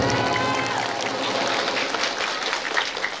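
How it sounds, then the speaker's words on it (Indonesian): A crowd at a community gathering claps steadily for Jaro Karangkamulyan, a dense continuous patter of many hands heard fairly close, with murmuring voices mixed in beneath it. "Tepuk tangan untuk Jaro Karangkamulyan."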